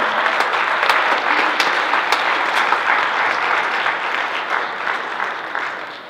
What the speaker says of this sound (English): how about everybody give a round of applause to our coaches up here on stage